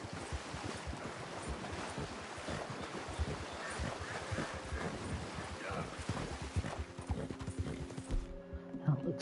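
Horse hooves clip-clop through water in Red Dead Redemption 2, a busy run of close hoofbeats and splashing that stops near the end, leaving quieter ambience.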